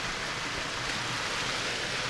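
River water flowing steadily beside a campsite, a continuous broadband rushing wash, fairly close and even, with no voices or other sounds over it.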